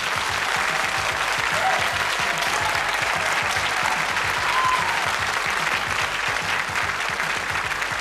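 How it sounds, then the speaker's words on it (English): Steady, dense applause from a game show studio audience fills the whole stretch, loud and even without breaks. "A round of applause."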